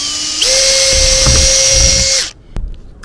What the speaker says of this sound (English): let's drill some holes in the roof